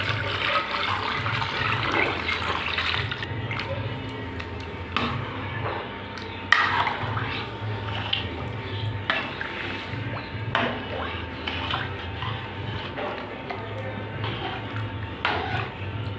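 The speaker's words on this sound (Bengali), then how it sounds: "এবার জল দিয়ে দেবো।" Water is poured into a cooking pot with sweet potato, salt and turmeric for dal, a continuous moderate splashing and running with scattered clinks of utensils and no talk.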